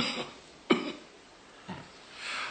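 Two short, fairly faint coughs from a person with a cold, spaced about a second apart in a quiet room, with a soft breathy tail after each.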